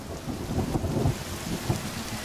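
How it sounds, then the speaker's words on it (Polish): Heavy rain in the video game The Forest, a steady close hiss of downpour with low rumbling swells underneath, continuous and fairly loud throughout. "Standardowo zaczynamy nagrywkę i zaczynamy deszcz."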